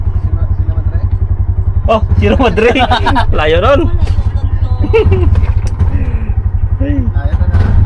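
A Bajaj RE three-wheeler's engine throbs loudly and continuously with a steady low pulsing beat on a steep, rough road in Isabela, while people aboard talk over it.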